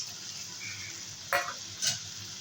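Small bata fish go into a hot, sizzling pan for a taro stolon curry, with two short, sharp bursts of spitting oil over a low, steady background sizzle and no talking.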